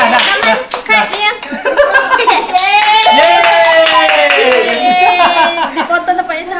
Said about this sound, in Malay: Tepuk tangan juga lah kat dia